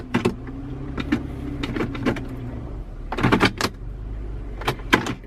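The gear shifter of a 2013 Nissan Xterra with a sticking transmission clunks through its positions, a series of sharp plastic clicks and ratchety knocks in uneven bursts over a low engine idle hum, close by.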